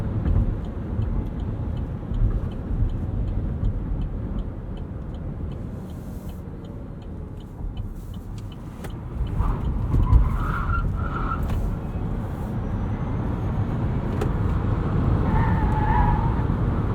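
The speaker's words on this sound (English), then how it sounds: "Let's get on the highway here and test this out on an entrance ramp." A 2020 Chevrolet Bolt EV Premier accelerates up a highway entrance ramp, with low road and tyre rumble inside the cabin and wind noise that grows as speed rises, broken by faint clicks and a soft electric whine.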